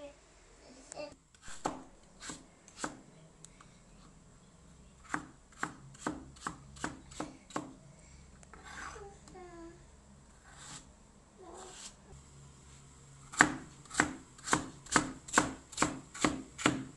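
A knife chopping peeled potatoes into small cubes on a board, sharp clear taps in irregular bursts, sparse at first and then a fast steady run near the end, close and alone.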